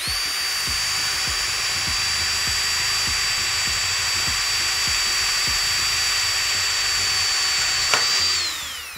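A power drill bores out a rivet stuck in a PC case with a steady, high whine at constant speed, then winds down near the end as the bit pops through, and no one talks over it.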